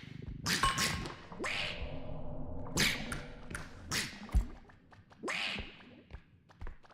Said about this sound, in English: There's 2 ducks.